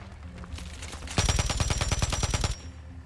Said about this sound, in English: He is firing back something with a glint.